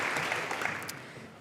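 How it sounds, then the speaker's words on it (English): Audience applause at a PyData Amsterdam talk on prompt engineering, a brief, fairly faint wash of many hands clapping from a room, steady and dense with no voices over it. "So let's give them a round of applause"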